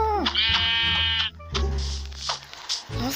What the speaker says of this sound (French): Enfin, des moutons!